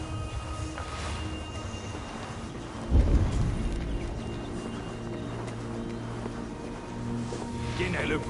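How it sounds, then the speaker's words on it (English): In the video game Assassin's Creed Valhalla, a deep rumble of thunder rolls in with a heavy low crack over steady rain and ambient game sound, then fades slowly. "What's all the thunder about?"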